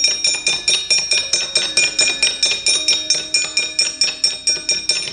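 Javanese gamelan gongs and bronze metallophones strike a steady, even rhythm of bright ringing tones, each stroke swelling and decaying in regular pulses throughout.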